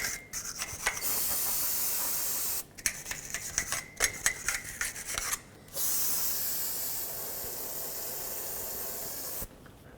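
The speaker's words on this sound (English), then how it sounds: "now I'm going to take some brake parts cleaner and just degrease it" Brake parts cleaner hisses in long continuous spray bursts onto the front hub of a 2008-2010 Ford F-250, broken by a stretch of quick rhythmic wire-brush scrubbing, close and clear with no talking.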